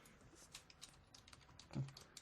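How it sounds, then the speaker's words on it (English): Quiet, scattered clicks of keys being typed on a computer keyboard, soft and irregular in a hushed room. "And now you'll hear me typing."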